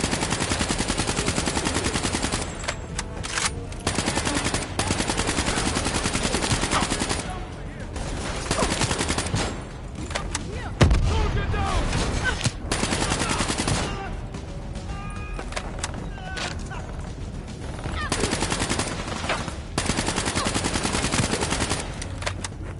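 Sustained machine gun fire from an enemy gunner in Call of Duty Black Ops 3, long loud rattling bursts with brief pauses, dense and close, with scattered combat noise around it.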